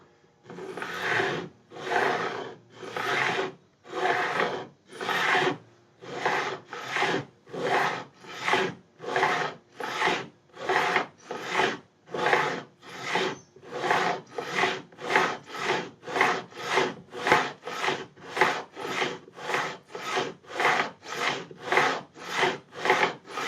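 A wooden guitar body edge for a Telecaster-style build is filed or sanded down to a bevel in long, rhythmic back-and-forth rasping strokes that speed up into a steady fast stroke pattern, close and loud with no talking.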